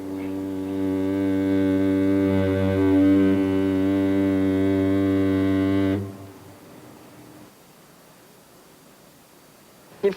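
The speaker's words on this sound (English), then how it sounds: "her foghorn, which can be heard for 4 miles, sounds a blast every 100 seconds" The SS Andrea Doria's deep, loud foghorn blares steadily in fog for about six seconds with rich low harmonics, then cuts off, leaving quiet background rumble.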